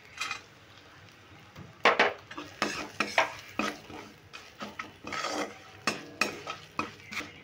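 Chopped roasted nuts with salt stirred in a pan, a steady rhythm of scraping spoon strokes against the metal with soft sizzling underneath, close and without talk.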